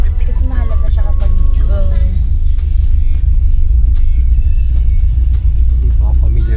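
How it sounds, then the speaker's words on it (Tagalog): Low steady engine rumble from inside a Subaru STI sitting in Cebu traffic, a constant near drone with faint voices and brief background noises over it. "Stuck in traffic. Inside an STI."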